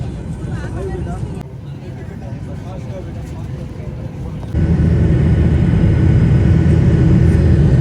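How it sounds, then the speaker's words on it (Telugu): Jet airliner taking off at night from Chennai airport, a loud, steady roar that swells noticeably partway through and holds as a broad rumble, with faint voices underneath. "ఫ్లైట్ అయితే టేక్ ఆఫ్ అయింది"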